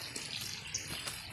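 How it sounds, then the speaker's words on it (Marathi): Steady hissing patter of monsoon rain falling nearby in Konkan, soft and continuous, with no voices. "पाऊसच पाऊस आहे सगळं इकडे"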